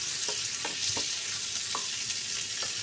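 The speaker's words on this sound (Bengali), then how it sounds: "তো টমেটোটা দিয়ে আমি খুব ভালোভাবে এটাকে ভেজে নেব" Chopped tomato and onion frying in mustard oil for an egg curry, a close, continuous sizzle broken by several light taps and scrapes of a spatula.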